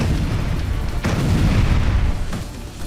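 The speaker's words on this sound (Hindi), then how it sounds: "अब तक कई टैंकों को विस्फोट से उड़ाया जा चुका है।" Explosions from bombing in Gaza, a low rumbling barrage with two sharper blasts standing out against continuous deep booming, loud and sustained throughout.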